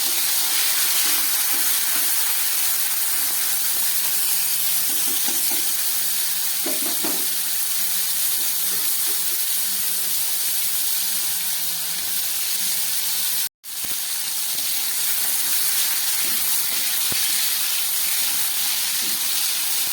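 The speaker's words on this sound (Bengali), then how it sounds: "তেলটা গরম হয়ে গেছে, আমি চিংড়ি মাছগুলো ভেজে নিচ্ছি।" Shrimp coated with salt and turmeric fry in hot oil with a loud, steady sizzling hiss that continues without pause apart from one brief instant of silence, with no talking.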